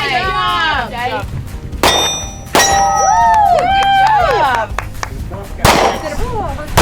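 Shooters on a Gunsite firing range let off three sharp, loud reports spaced a few seconds apart, each followed by bright ringing clangs from steel targets, while voices talk in between.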